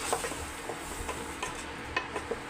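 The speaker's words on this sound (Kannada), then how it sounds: "ಇವಾಗ ಟೊಮೆಟೊ ಪೇಸ್ಟನ್ನು ಹಾಕೋಣ. ಇವಾಗ ಅದನ್ನು ಮಿಕ್ಸ್ ಮಾಡೋಣ ಚೆನ್ನಾಗಿ." Tomato paste masala stirred and frying in a pan for a prawn gravy, with a steady soft sizzle and irregular scraping stir strokes, fairly close, no talking.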